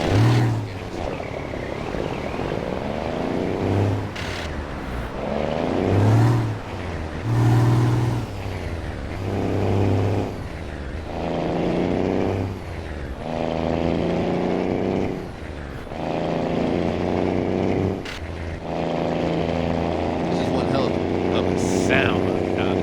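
A Kenworth T2000 truck engine in American Truck Simulator drones and revs through repeated gear changes, rising and falling in pitch, with someone talking over it at times.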